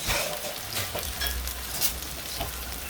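Potatoes fry in a hot pan with a soft, crackly sizzle, broken by occasional bursts of spattering and stirring scrapes, fairly quiet and with no talking.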